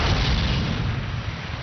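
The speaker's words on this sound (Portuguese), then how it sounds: "os britânicos e os americanos são saudados pelos franceses de Vichy com fogo de canhão" World War II cannon fire, with Vichy French guns firing on landing British and American forces in North Africa. A dense, continuous rumbling roar of artillery with heavy low-end booms that runs the whole time, loud and muffled like archival film sound.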